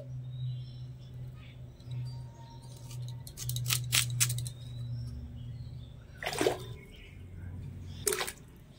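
A knife cuts raw mango into pieces for pickle: a few short, crisp slicing clicks, with a faint low hum and quiet background sounds between the cuts.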